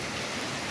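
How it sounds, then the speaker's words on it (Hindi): Hail pours down in a dense, steady hiss of pelting ice, loud and unbroken, in the Galiyat hills of Pakistan. "तो गाइस अभी एकदम से ओले पड़ना शुरू हो गए हैं।"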